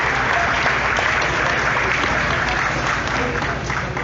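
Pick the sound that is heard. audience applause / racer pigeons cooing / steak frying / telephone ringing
audience applause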